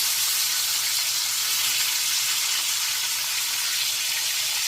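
A salmon fillet sears in a hot pan, giving a steady, even hiss of sizzling that continues without a break, fairly close and with no talking.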